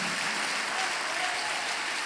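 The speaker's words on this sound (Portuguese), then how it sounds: "Se você crê, dá uma salva de palmas ao Senhor." Church congregation applauding, a dense, steady burst of clapping from many hands filling the room for a couple of seconds.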